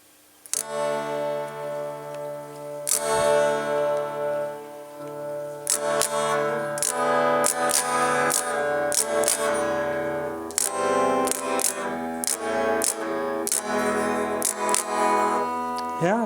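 Old Stratocaster electric guitar on its bridge pickup, played in strummed chords and single sharp picked hits with sustained ringing harmonics, loud and close, alone without talk.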